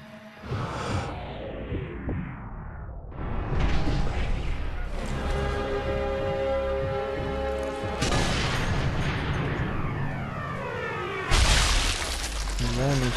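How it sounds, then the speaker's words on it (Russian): Canisters blowing up in the video game Sniper Elite 3, heavy booming blasts with shattering debris and whooshes, one bursting in after a brief lull and further loud explosions later, with long ringing tails. "канистры взрываются очень сильно."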